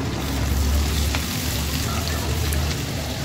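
Two tablespoons of onion paste hitting hot oil after sliced onions have browned, producing a dense, constant close sizzle and crackle throughout, with no talking.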